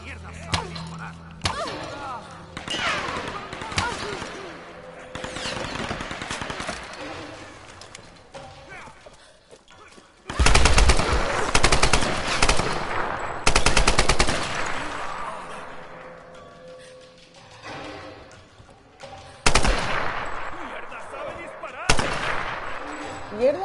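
Bursts of machine gun fire ring out in a shooting video game, loud rapid volleys repeating several times across the stretch with pauses between, mixed with other game sounds and shouting voices.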